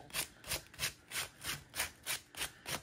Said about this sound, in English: all I'm going to do is just take a piece of sandpaper